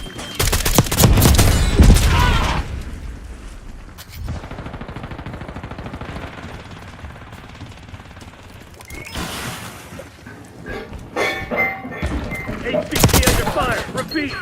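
Bursts of automatic gunfire in a Black Ops 6 match, loud volleys at the start and again near the end with mechanical clanks between, while voices announce game status over the action.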